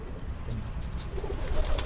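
Pigeons coo softly in a loft, low murmuring calls repeating over a steady background hum, with no voices.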